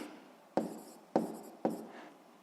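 Chalk or pen writes out a physics formula for spring force in a few quick strokes, each stroke a sharp scratchy onset that fades, repeated about every half second, close and quiet.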